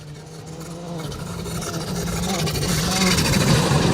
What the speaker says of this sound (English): John and Reese pushing hard in the Legend Performance GTI Polo.